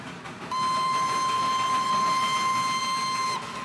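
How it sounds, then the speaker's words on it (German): A narrow-gauge steam train on the Darjeeling railway sounds a long, steady whistle lasting about three seconds over a low rumbling background while looping uphill. "Hier fährt die Schmalspurbahn im Kreis und gewinnt dabei an Höhe."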